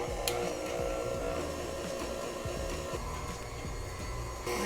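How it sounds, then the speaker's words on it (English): An electric mixer beats vegan blueberry batter with flour at high speed, giving a steady whirring drone with small fluctuations throughout, with no voices. "Now you want to mix in your blueberries on a high speed until it's completely incorporated."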